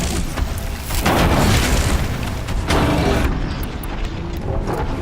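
A bomb detonates in Horizon Zero Dawn: The Frozen Wilds, a loud booming blast followed by rumbling debris and a second heavy burst, close and dominant with no talk.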